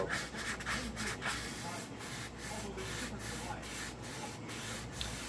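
Hand sanding on the maple neck of a J Bass, with its rosewood fingerboard unmasked, gives a soft, steady rubbing hiss broken by rhythmic back-and-forth strokes, quiet and close.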